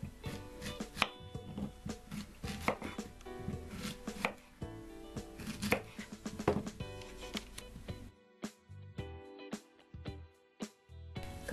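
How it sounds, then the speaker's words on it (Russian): Rapid knife strokes chop through a zucchini on a cutting board, slicing rounds 1 to 1.5 cm thick, crisp irregular taps in bursts, then sparser single cuts near the end. "Нарезаем кабачок"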